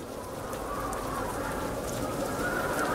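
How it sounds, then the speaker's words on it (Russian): Steady rain in Brick Rigs patters continuously across the whole stretch, a dense even hiss with low rumbling underneath and no voices. "Кажется, дождь."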